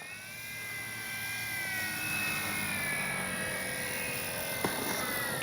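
A FLEX RV-8 60E G2 radio-controlled plane comes in to land into the wind, its electric motor giving a thin whining drone with gliding pitch changes, fairly faint and steady, with a small click near the end.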